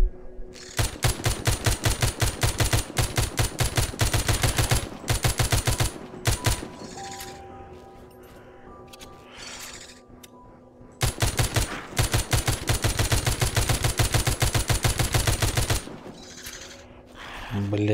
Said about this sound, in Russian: Потихонечку будем проходить, тогда стрелять. Все патроны потратим, конечно.